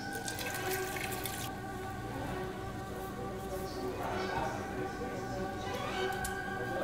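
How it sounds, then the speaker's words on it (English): Cold water is poured slowly into a pot in a couple of splashy bursts, over a steady low hum. "let's start pouring in some cold water."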